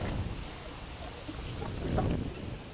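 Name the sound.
wind blowing in garden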